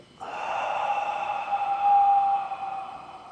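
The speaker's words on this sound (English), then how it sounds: "Then a big exhale." A long, forceful exhale through the mouth during a golf rotation stretch, a steady breathy rush lasting about two seconds, close and clear, with no talk.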